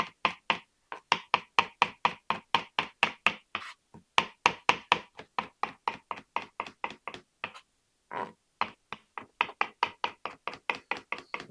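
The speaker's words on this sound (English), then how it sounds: "We chop this up." Cilantro being chopped with a knife on a cutting board: rapid, evenly spaced close knocks in long runs with short pauses between, no talking.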